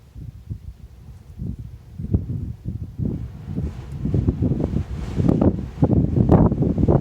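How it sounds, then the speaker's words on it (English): Gusty outdoor wind buffets the microphone with low, rumbling thumps that swell and grow louder and denser toward the end, with no talking over it. "I'm sure the wind is pretty high."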